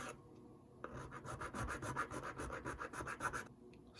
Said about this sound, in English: there's some metal in there too, so I need to file that out